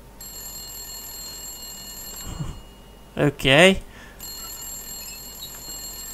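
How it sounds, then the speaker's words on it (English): A ringing telephone inside the survival video game The Long Dark (Wintermute story mode): a steady electronic ring holds for nearly two seconds, breaks off while someone says a short word, then resumes. "A phone appears to be ringing."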